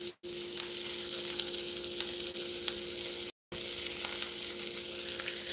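Vegetables sizzle and fry in a hot pan toward caramelizing, a steady dense crackle and hiss with scattered pops, close and loud, broken by two brief silences.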